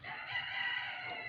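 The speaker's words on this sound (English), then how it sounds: "Chickens." A rooster crows in one long, sustained call among chickens, moderately close and steady, with no talking over it.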